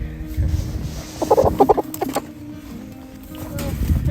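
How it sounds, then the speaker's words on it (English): Bantam chickens cluck softly in a short burst amid low background noise, with a faint voice nearby. "We're at the bantams."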